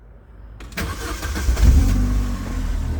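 An Opel Astra G 1.8 16v, with the engine warning light still on after a full timing kit job, cranks briefly and fires, then settles into a steady, close idle with no talk.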